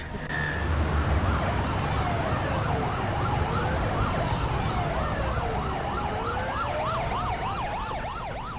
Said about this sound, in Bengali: অভিজিৎ, অ্যাম্বুলেন্স ডাকো।